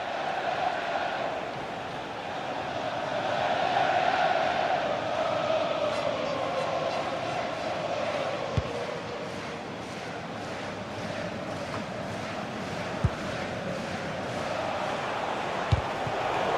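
Stadium crowd in the EA FC 26 football video game, during a Monaco match in manager career mode: a steady, dense roar of thousands of fans that swells and settles, with a few soft thumps.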